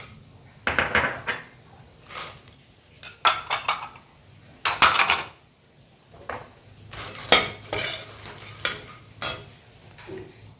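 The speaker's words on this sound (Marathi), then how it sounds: "एक अर्धा चमचा तूप घाला जरासं आणि मखाना भाजून घ्या" Makhana (fox nuts) roasting in half a spoon of ghee in a pan, with repeated bursts of stirring, scraping and rattling as the nuts are tossed, separated by brief quiet gaps; close and fairly loud, no talking.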